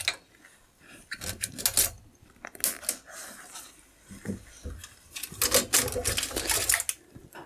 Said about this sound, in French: on va couper les colsons qui tiennent ici le bed et la tête d'impression.